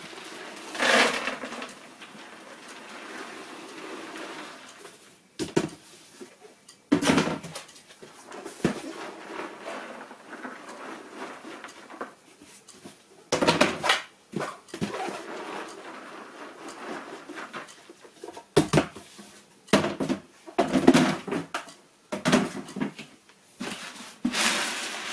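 Ingredients for a homemade carp stick mix go into a large container in a series of separate bursts of rustling, pouring and knocking, spaced by quiet gaps, with no talking.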